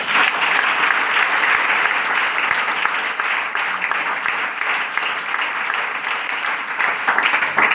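A meeting audience claps loudly and continuously in dense, steady applause that fills the room without pause for several seconds.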